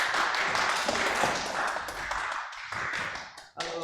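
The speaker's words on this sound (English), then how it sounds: "Everyone, please like and give them a round of applause." Guests on a live show greeted with applause: a dense, steady run of claps from a small group, continuous for several seconds with a brief dip near the end, close and fairly loud.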